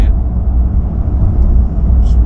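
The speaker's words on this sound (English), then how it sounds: "Exhaust sound," A RAM 1500 TRX pickup with a high-performance mid pipe exhaust rumbles with a deep, steady low growl, loud and close, with brief faint voice sounds over it.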